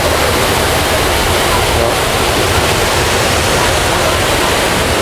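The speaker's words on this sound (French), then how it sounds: "La cascade, le raft." Loud, steady rush of a waterfall pouring and splashing at a water raft ride at Europa Park, a continuous broadband roar throughout with a brief spoken word over it.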